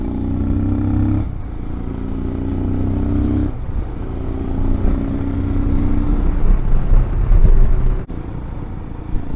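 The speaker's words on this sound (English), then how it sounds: "This little single cylinder engine does make a lovely sound." Royal Enfield Himalayan single-cylinder motorcycle engine thumping steadily on a ride through northern Spain, loud and close with shifting revs, brief dips as the throttle changes, and no talking.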